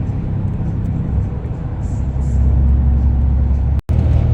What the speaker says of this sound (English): some driving time behind the wheel of the big old Ram truckie